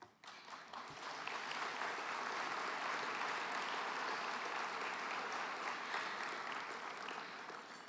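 A luncheon audience applauds steadily, a dense, sustained wash of many hands clapping at a moderate distance, holding an even level for several seconds with no voices over it.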